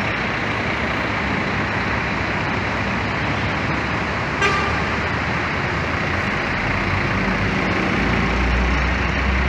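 Continuous heavy engine rumble from a coach bus pulling away toward the garage in Bauru, Brazil, steady and loud with traffic around, a brief horn-like tone midway and the low rumble swelling toward the end.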